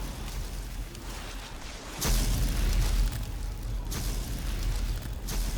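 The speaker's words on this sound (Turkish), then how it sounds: "Şöyle yere bombalar da koyabiliyorsunuz. Belli bir saniye sonra patlıyor bunlar." Bombs placed on the ground explode in the online game Dragon's Prophet, with a sudden loud blast at about two seconds followed by further booming bursts over a dense, noisy game soundscape.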